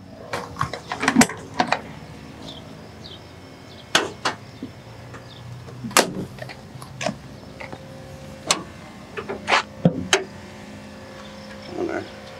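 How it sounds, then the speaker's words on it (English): Mechanical clicks, clunks and latch sounds from opening the hood on a 1981 Toyota pickup 4x4, irregular and close, over low background hum. "from here, I wanna pop the hood"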